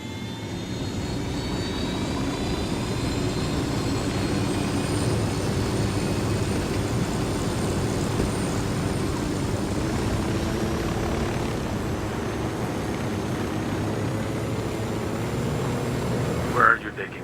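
Steady aircraft engine drone from a piloted craft in the Ghost Recon video game, a continuous broad roar with a high whine that runs throughout, ending in a brief sharp burst near the close.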